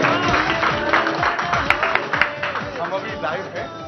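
Studio audience clapping on a live morning TV show, scattered applause running through the moment while a host talks over it.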